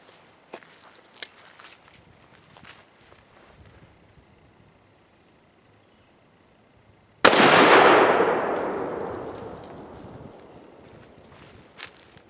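A Baikal double rifle fires a single loud, sharp shot at a honeydew melon set downrange outdoors, and the blast rolls away in a long, fading echo. Soft footsteps and shuffling come before the shot.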